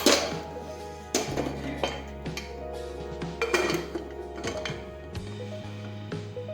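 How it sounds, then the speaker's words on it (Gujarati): A pressure cooker lid closes over a cluster bean and potato curry: several sharp metallic clanks and clinks of steel against steel, fairly close, separated by short pauses, with a low steady hum beneath. "હવે આપણે કુકરનું ઢાંકણ છે તે બંધ કરી દઈશું."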